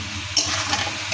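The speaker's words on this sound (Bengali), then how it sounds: "হলুদ দিয়ে নাড়াচাড়া করে ফুলকপিটা অল্প আছে সিদ্ধ করে নেব" Cauliflower being stirred with turmeric in hot oil in a pan, a steady soft sizzle with scraping movements and a brief louder stir near the middle, close and alone.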